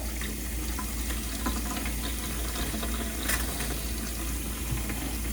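Hot water runs steadily from the tap inside a newly de-winterized Jayco camper, a constant hiss of flowing water at moderate volume with no talking.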